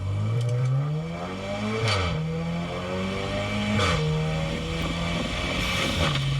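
A Volkswagen Golf R's exhaust climbs through gears with its DSG gearbox, the drone rising then dropping sharply at each shift with a brief pop, three shifts in steady succession.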